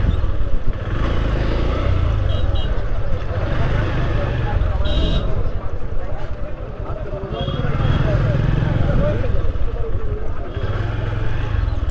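An Eid traffic jam on a road in Narail brings a dense, continuous rumble of car and motorcycle engines with occasional horn toots, under a person talking close by.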